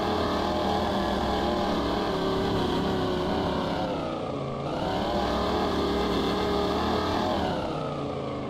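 Chevy truck engine revving hard in the Spintires off-road video game, a loud continuous droning roar that dips briefly and climbs back up, heard alone.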